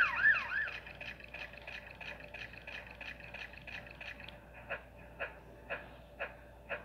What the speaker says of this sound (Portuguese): Eu acho que a ambulância já tá chegando lá no hospital.